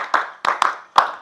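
Hands clap in a classroom clapping game, four sharp close claps in an uneven rhythm with a quick double in the middle.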